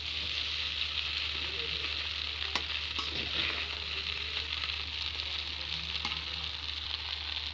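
Pasta with Maggi masala sizzles and fries in a pan, a continuous close crackle with a few sharper stirring scrapes and clinks scattered through, heard without talk.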